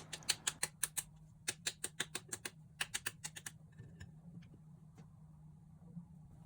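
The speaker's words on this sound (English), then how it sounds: "The idea is to crack the shell but not to break it." A boiled egg for Chinese tea eggs gets its shell cracked, giving a quick run of sharp, close taps and crackles in short bursts that thin out into faint scattered clicks near the end.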